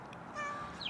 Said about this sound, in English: That's my cat, Duchess.